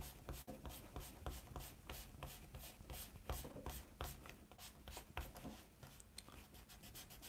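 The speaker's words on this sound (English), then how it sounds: "I'm using my kneaded art gum eraser here to erase the graphite lines." A kneaded art gum eraser rubbing graphite lines off a drawing, a faint, close, rhythmic scrubbing repeated in quick strokes without talk.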